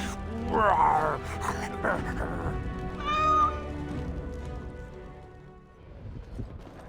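A kitten in the video game Dragon Age Origins: Awakening meows twice, a short clear cry near the start and another midway, heard over game music and ambience.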